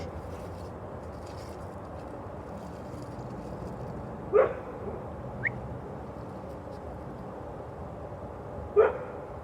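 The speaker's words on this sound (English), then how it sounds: "I don't know what my dog's barking at." A dog outdoors gives a couple of isolated barks at a distance, with a faint yip between them, over steady background noise.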